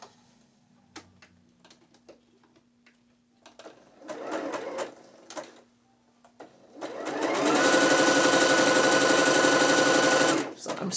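Scattered clicks and short mechanical bursts give way to a loud, sustained run of a sewing machine stitching a ruched skirt, close by, lasting about three seconds.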